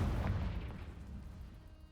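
A Confringo fire spell explosion in Hogwarts Legacy, a deep booming blast that opens loud and rolls off into a fading rumble, alone with no talk.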